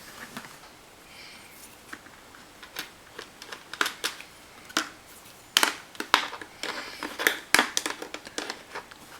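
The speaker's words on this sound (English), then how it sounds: "I'll tighten up the nut underneath to secure the camera." A nut being tightened underneath to fix a camera onto a plastic motorcycle helmet mount: a run of irregular close clicks, taps and plastic crinkles that grow busier and louder toward the end, with no speech.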